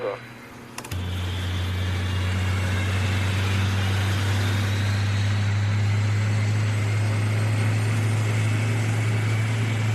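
Engine number 3 of an Airbus A380 spools up during start on the ground. A short knock comes first, then a loud, steady low hum with a high whine that holds and rises slowly.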